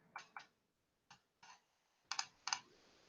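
Six separate keystroke clicks on a computer keyboard, close and quiet and unevenly spaced, the last two sharper like a firm press of the enter key, with silence between them and no speech.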